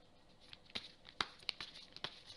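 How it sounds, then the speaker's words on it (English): A tarot card deck being shuffled in a quiet room, a series of soft papery flicks and crisp snaps at irregular intervals, close and faint. "It's a bit hard to shuffle this deck."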